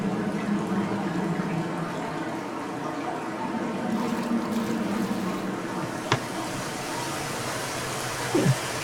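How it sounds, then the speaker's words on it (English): A waterfall in the game Dear Esther gives a steady, broad rushing roar that stays even throughout, with a faint click or two near the end. "Hey, another waterfall."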